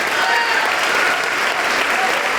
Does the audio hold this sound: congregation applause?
yes